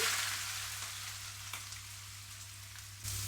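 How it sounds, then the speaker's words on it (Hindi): Cardamom and cinnamon pieces sizzle briskly in hot oil, a steady close frying crackle that runs alone without talk. "इसको बस कुछ सेकंड के लिए फ्राई करेंगे।"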